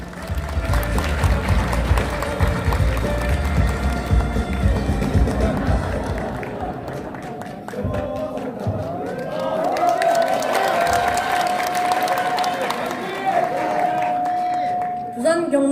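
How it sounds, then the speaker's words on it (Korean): A large crowd of party members at a political rally in Busan claps and cheers loudly for a young district councillor, a dense continuous roar with voices and a sustained tone rising over it. "여러분 큰 박수 보내주십시오."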